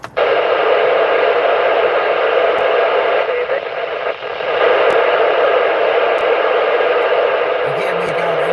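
Amateur radio reception through the FM repeater aboard the International Space Station: a steady wash of loud hiss and static with faint, garbled voice fragments buried underneath, continuous throughout.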